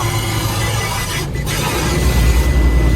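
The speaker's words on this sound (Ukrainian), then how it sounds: "Починаємо їхати і у нас починається омивання дна." Jets of a touchless tunnel car wash blast the underside of a car, a loud, steady broadband hiss and rumble of spraying water that carries on without a break.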